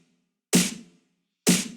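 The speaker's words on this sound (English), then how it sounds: "And then my snare sounds like this." Two separate hits of an 80s-style snare drum sample, drenched in reverb, each a loud crack with a washy tail, spaced about a second apart.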